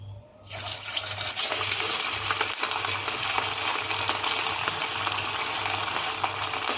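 Bombay rava vadas, crispy semolina fritters, drop into hot oil over a high flame and set off a sudden loud sizzle that holds steady and continuous, with a low hum underneath.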